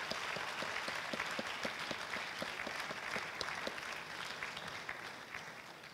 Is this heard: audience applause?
yes